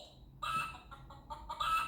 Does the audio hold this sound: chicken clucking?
yes